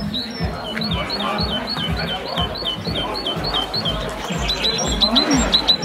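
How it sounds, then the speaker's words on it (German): Birds chirp in a quick series of repeated high tweets at an evening Pentecost festival in Gospiteroda, set over low rumbling and handling noise, fairly close and clear. "Was zwitschert denn da?"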